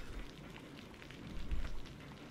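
Rain falling in the horror game Blue Maiden, a faint, steady wash of patter and drips with a low rumble that swells briefly midway.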